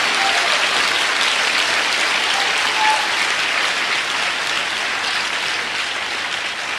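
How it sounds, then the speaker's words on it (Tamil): A large crowd at a night prayer church service claps loudly and steadily, a dense sustained wash of applause that holds for several seconds and eases slightly at the end. "நல்லா ஓங்கி கைத்தட்டுங்க."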